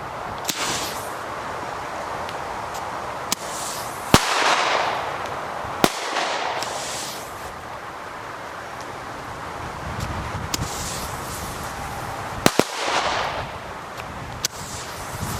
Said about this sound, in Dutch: De knallers gaan toch helemaal gelijk op hoor.